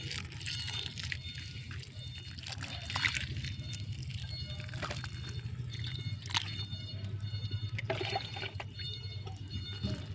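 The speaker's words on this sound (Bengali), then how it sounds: "এখন আমি বেশি করে জল দিয়ে দেব।" Water is poured and drips onto soil around newly planted broccoli seedlings in a rooftop garden, a steady trickling and splashing over a low background hum.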